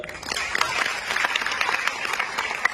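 Audience applause at an indoor company event in Jaipur, a dense steady patter of many hands clapping at fairly constant loudness, with no voices standing out.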